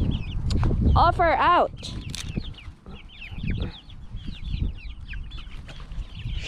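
Backyard chickens in a Texas home flock cluck and squawk excitedly while being fed old biscuits, with a loud rising call early on and busy scattered clucks throughout, under a person's voice calling to them.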